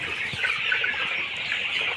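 Sonali chickens about 35 days old cluck and chirp together in a farm shed, a dense, continuous chorus of close, high calls with no talking.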